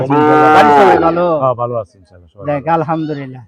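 A cow lets out a loud, drawn-out moo up close, followed by people talking nearby.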